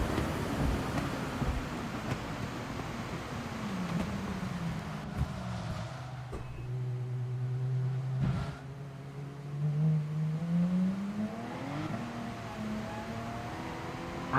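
Race car engine in the GT Sport video game, a steady droning drone that rises and falls in pitch as the throttle is worked, with sharp gear-shift blips and a climbing rev toward the end, heard alone without talk.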